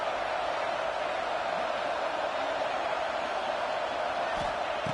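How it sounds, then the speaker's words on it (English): Simulated stadium crowd noise in an ESPN football video game forms a dense, constant roar at even loudness with no breaks from start to finish. "listen to this crowd noise. This stadium is vibrating."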